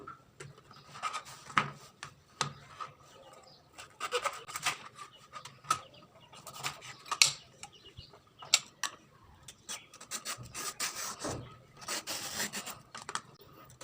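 Ridge gourds being peeled with a knife or peeler for a silver carp dish, giving repeated short scraping and rasping strokes in an irregular rhythm, close up and fairly quiet.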